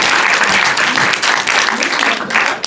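Loud, dense applause from a theatre audience fills the whole stretch without pause.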